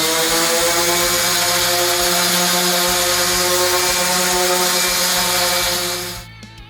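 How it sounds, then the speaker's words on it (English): Foam is sanded with 220 grit sandpaper, a loud, close, continuous buzzing whine with a steady droning motor tone that holds for several seconds and then winds down. "we're going to sand it with 220 grit sandpaper"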